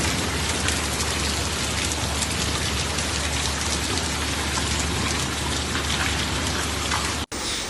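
Heavy rain with hail pounds down during a powerful storm in Piedrabuena, Castile-La Mancha, Spain, a dense, steady roar of drops that holds unbroken almost to the end before a brief cut.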